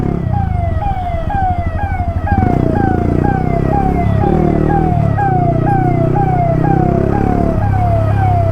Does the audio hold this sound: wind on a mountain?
no